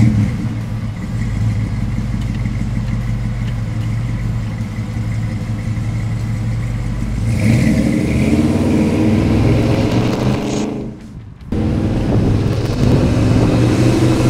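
A 1955 Chevrolet 150 engine runs with a low, steady rumble, then its note rises as the car pulls away, with a brief drop partway through before the driving sound returns loud and close.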